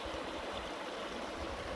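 Flowing water at Stoney Creek near Byfield, a steady close rushing and gurgling that continues without a break, with no talking.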